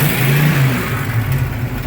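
A 1936 Buick engine with an overheating problem revs up loud and close, a sustained rough mid-pitched roar with a steady throb and slight wavering, no voices over it.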